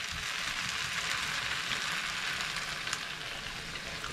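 Steady, quiet sizzling fills the air as beer is poured into beef stew in a hot pot, a soft hissing that stays fairly even throughout with no talking.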